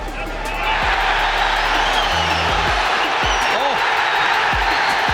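Boxing arena crowd on its feet cheering and applauding at a Nigel Benn fight, a dense sustained roar of voices and clapping that swells and holds, with a shout rising above it.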